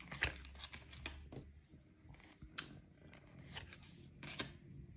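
Witchy Cauldron tarot cards are handled and rearranged up close, giving soft papery slides, flicks and crinkly rustles in short bursts with brief pauses between them.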